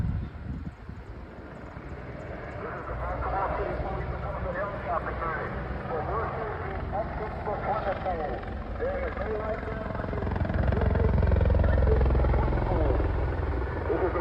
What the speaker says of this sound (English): this is the Baltimore City Police Department helicopter unit